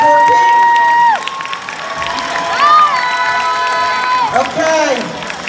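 An audience at a boogie-woogie dance competition small final cheering, whooping and applauding for the dancing couples, a loud crowd roar with shouts rising and falling throughout.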